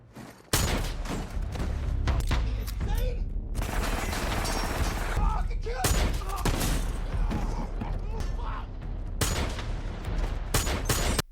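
Gunfire rips through a film shootout in dense bursts of rapid shots, loud and close, with brief pauses between volleys and scattered impacts.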